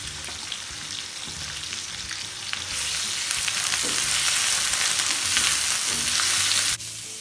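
Thinly sliced meat fries in a hot pan with a loud, steady sizzle, accompanied by scraping and stirring noises, with the sizzle surging louder partway through as the meat is moved around.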